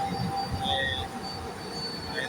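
A train rumbles past outdoors in Hungary, a low continuous rolling drone with faint metallic squeal, moderately distant, with people talking faintly over it.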